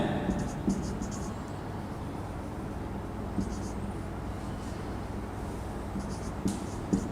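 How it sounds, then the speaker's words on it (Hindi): Pen scratching on paper while working through log table values, faint light strokes heard close over a steady background hiss, with a voice speaking Hindi throughout. "लिख दे रहे हैं"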